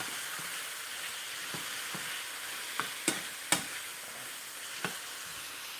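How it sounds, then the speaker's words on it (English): Brown sugar caramelizing in a pot while oxtail beef ramen is made gives a steady, close frying sizzle with a handful of sharp clicks and pops scattered through the middle, with no voices. "We get this brown sugar to caramelize."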